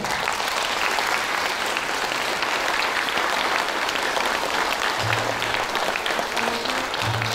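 Audience applause after a theatre performance with live music, dense sustained clapping from a full hall, loud and even throughout, with faint low tones surfacing near the end.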